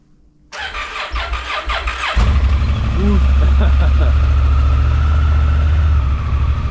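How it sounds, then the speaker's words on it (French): A motorcycle engine cranks and catches in cold weather of about one degree, then revs and settles into a loud, steady, close-up idle that runs to the end. "je pense que là ça va démarrer quand même"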